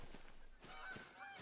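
A goose honks out in the Yukon wilderness, with several faint, distant honks carried over broad wind and ambient noise.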